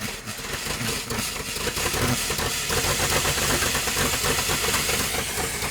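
An abandoned 1947 Dodge truck engine cranks and catches, then settles into a rough, loud idle with rapid rhythmic firing and some hissing, running steadily and close with no talk.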